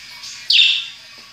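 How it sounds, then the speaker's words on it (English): A pet bird gives a single bright, piercing chirp that swells and fades over about half a second, loud and close, against quiet surroundings. "my bird's invited to chirp along"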